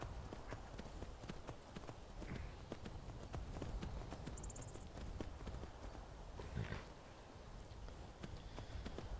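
Galloping horse hooves from the Skyrim video game, a steady run of clip-clop impacts throughout, fairly close and prominent, with a busy background of game sound and no talk.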